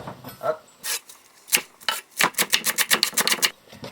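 Rapid knife chops on a cutting board slicing leeks, starting irregular then settling into a quick steady rhythm of sharp close taps, with no talking.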